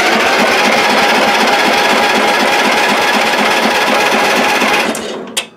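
An Ariens engine on choke cranks with the key in a steady, loud, rapid mechanical chugging that runs for about five seconds, then stops abruptly with a faint click.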